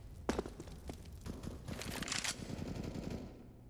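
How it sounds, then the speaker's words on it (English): FAMAS rifle spray fire in a competitive shooter match, loud rapid automatic bursts sounding up close with shots ringing out in quick succession, mixed with brief footstep noise and tapering off at the end. "you're hearing like a spray of the FAMAS out of Alman"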